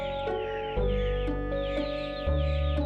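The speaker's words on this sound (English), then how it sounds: "As you listen to these songs and the birds singing up above" A chicken or rooster clucks and calls in a few loud, close, harmonic bursts separated by short pauses, with no talking.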